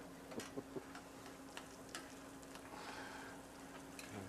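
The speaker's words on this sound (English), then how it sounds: "I'm going to saute those onions and garlic for a while till the onions get a little bit tender." Onions and garlic sautéing in a pan make a soft, steady sizzle. Light clicks and taps from a utensil stand out in the first second, and no one speaks.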